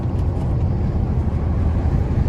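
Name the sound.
Dodge Scat Pack engine heard through open window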